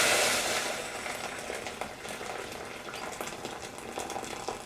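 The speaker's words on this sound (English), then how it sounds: "So what I do then is pour it into the pot." Freshly boiled water pours into a pot for porridge, a steady hissing splash that is loudest at the start and continues throughout without talk.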